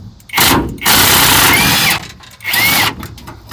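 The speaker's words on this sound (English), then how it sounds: "see if we can hit this with the impact wrench" An impact wrench hammering at bolts on a Dodge truck during a running board install, three loud, close rattling bursts separated by short pauses.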